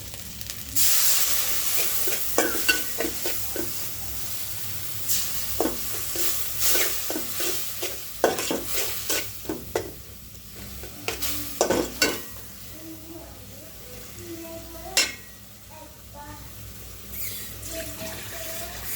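Chillies and spices stir-fried with dried fish and taro in a pan, a continuous sizzle broken by repeated scraping and clanking stirs of the spoon, close and steady with no talking.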